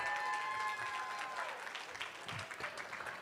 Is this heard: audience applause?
yes